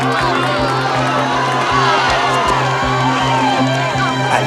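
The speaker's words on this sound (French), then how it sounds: "La foule encourage cette femme qui lutte pour terminer son premier triathlon" A crowd at a 1985 triathlon finish cheers and shouts encouragement for a struggling woman, a dense, loud wall of voices with whoops and a steady rhythmic thumping underneath.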